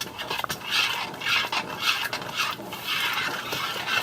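Spoon scraping and stirring steak chili in a pot, a steady run of rhythmic scrapes and rubbing strokes at close range with no talk.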